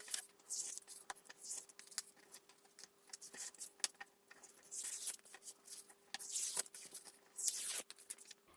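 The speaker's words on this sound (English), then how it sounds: "So what I'm going to do here is just cut it out, but kind of using my fingers because I don't want it too neat." Printed card being torn by hand for a vintage shabby chic craft: faint, close, intermittent crackling and rustling of paper in small irregular bursts.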